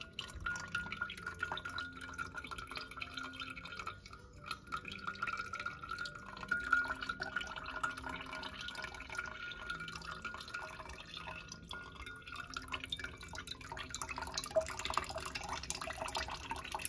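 Whey drips and trickles steadily as fresh cheese curds strain during ghee and cheese making. The soft wet patter continues quietly throughout with no voices.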